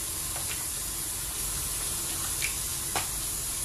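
Tap water runs into a sink as a steady, fairly loud hiss that fills the whole clip, with a couple of faint clinks standing out briefly.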